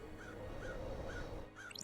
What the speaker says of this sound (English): Although I can still hear the birds.